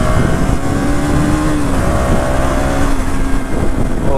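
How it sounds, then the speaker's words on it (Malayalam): A KTM Duke 200 motorcycle engine pulling up through a rev, loud and close, with a steady drone whose pitch climbs and falls slightly over about four seconds. "കൈ കൊടുക്കുമ്പോഴൊക്കെ വണ്ടി വെറുതെ ജെറ്റ് പോലെ തന്നെ കയറുന്നുണ്ട് കുറച്ചങ്ങ്"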